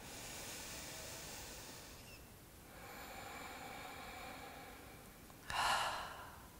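A slow mouth exhale during yoga breathing, a soft airy breath that swells briefly and fades, heard alone against a quiet room.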